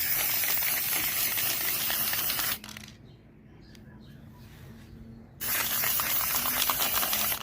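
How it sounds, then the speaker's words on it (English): Aerosol spray paint hissing onto the inner fender linings of a 1995 Toyota RAV4, coating them black: two long steady bursts close up, separated by a pause of a few seconds. "The fender linings are being painted black to cover up the ugly repair work."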